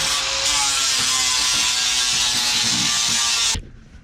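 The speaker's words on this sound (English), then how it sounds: "Now let's grind it here first." A power grinder works down rusted body metal during repair on a Buick Skylark, a loud steady whine with uneven scraping that cuts off sharply near the end.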